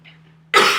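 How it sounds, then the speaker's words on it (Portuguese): A single sharp, loud cough bursts out abruptly after a brief near-silent pause with faint background hum, close to the listener. "uma tosse horrível aqui"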